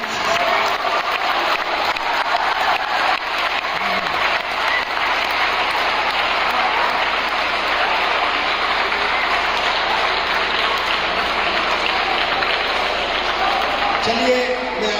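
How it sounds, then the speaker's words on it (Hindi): An audience giving sustained, steady applause, loud and dense throughout, a continuous wash of clapping hands with no pause. "तालियों से रिसीव करना"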